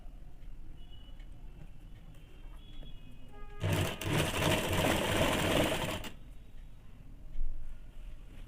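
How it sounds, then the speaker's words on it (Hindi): A sewing machine stitches an elastic scarf in one steady burst of about two and a half seconds, a close, loud, rapid mechanical whir between quieter moments. "अब मैं इसको सिलाई कर लूँगी"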